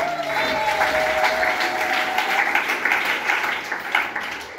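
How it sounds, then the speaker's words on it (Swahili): Applause from a church congregation during a Swahili sermon, steady dense clapping sustained throughout, loud and fairly close, with a faint voice briefly underneath at the start. "kama ni makubwa mpigie Yesu makofi."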